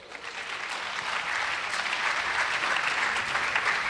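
Warm applause from parents at a freshman parent meeting in a high school auditorium, building gently and holding steady as a broad crowd of hands claps throughout.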